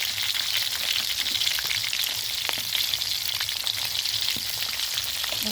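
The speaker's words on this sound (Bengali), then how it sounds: "তেলটা গরম হয়ে গেছে, এখন আমরা ডিমটা দিয়ে দিব।" An egg fries in hot oil with turmeric and salt, giving a steady, close sizzle and crackle that runs unbroken with no talking.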